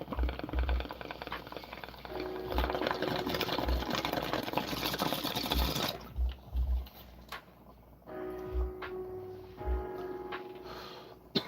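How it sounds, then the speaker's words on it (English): Bubbles are blown through a straw into milk, making a close, rough bubbling gurgle that runs for several seconds, stops, then resumes in shorter bursts. "let's blow bubbles in milk"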